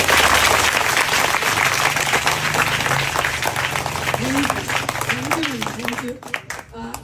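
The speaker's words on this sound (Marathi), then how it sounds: "सर्वांनी आपल्या टीचरसाठी जोरदार टाळ्या वाजल्या पाहिजे" Loud, dense applause from a class or audience for their teacher, with sustained crowd clapping for about six seconds and some voices rising over it before it thins out at the end.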